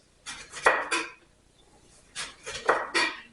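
A knife cuts lemon slices on a cutting board, giving two clusters of three or four sharp thuds each, separated by a short pause, close and fairly clear.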